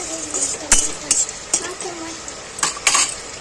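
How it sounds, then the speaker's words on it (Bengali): Whole cumin and bay leaf fry in hot oil in a pan, a light sizzle broken by repeated sharp clinks of a utensil stirring against the metal, with faint speech in the background. "নেড়ে ঝেড়ে ফোড়নটাকে ভেজে নিলাম।"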